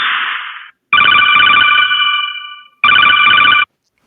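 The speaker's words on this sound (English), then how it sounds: "that's my ringtone" A phone ringtone plays loudly in bursts: a brief buzzy tone, then a long bright electronic melody that fades out, a pause, and another short sustained burst that cuts off, with no voices over it.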